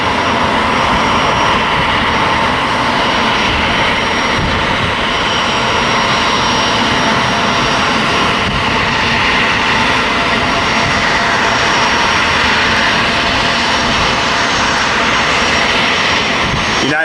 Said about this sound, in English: Here's a small United CRJ about to taxi out here and take off.